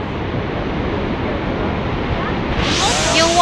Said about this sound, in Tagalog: Yan po yung falls.